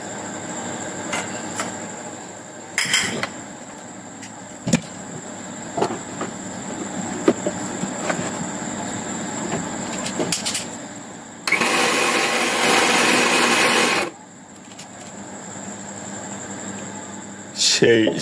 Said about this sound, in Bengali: ব্লেন্ডার হতে অনেক কষ্ট হবে আজকে।